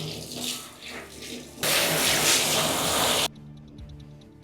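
Tap water runs into a sink while box hair dye is rinsed out, a steady splashing that swells to a louder, fuller gush in the middle before easing back to a lighter trickle.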